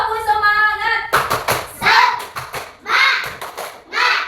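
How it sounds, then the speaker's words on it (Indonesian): A school class of children does the rhythmic 'tepuk semangat' clapping chant: a sung voice first, then bursts of patterned hand claps mixed with children's chanting voices, near and lively. "Ayo, tepuk semangat."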